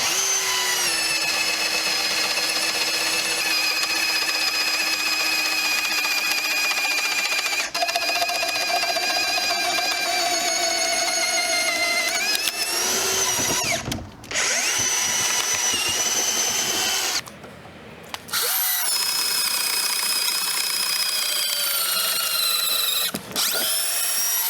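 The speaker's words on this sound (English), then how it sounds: "Let's now drill a hole." A Dewalt 60V Flexvolt brushless mixer/drill drills a hole, its motor whining steadily and loudly close by. The pitch shifts and cuts out briefly several times as the trigger is eased and released.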